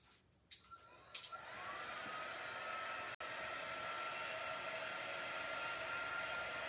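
A hair dryer blows steadily and close up to dry permanent ink on a fabric pillow cover, starting after a few clicks and running as a continuous loud whoosh with a single brief dropout.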